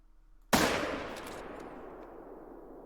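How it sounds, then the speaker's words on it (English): A single loud rifle shot from a .270 fired at a bull moose in the hunting game Call of the Wild cracks sharply, then rolls off in a long fading echo. "That was about a 30-yard shot with the 270."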